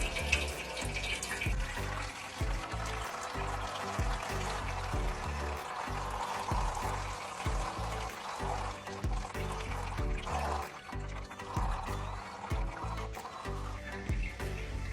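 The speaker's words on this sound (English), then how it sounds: "Let the oil drain out of here." Engine oil drains out of a BMW E30 at a repair shop, a continuous trickling, splashing pour of liquid into a pan, fluctuating with uneven gurgles and held close throughout.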